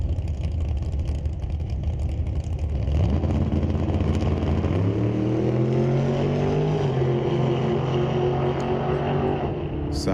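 Drag race between a 1967 Chevrolet Nova and a 1991 Mustang: a dull engine rumble swells into a loud, rising roar as the cars pull away side by side, with the pitch climbing through the gears before dropping off.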